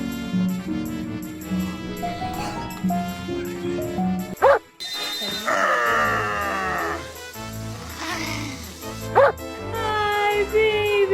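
Small dog barking and whimpering in short yips amid a busy, music-like mix, with people talking at times.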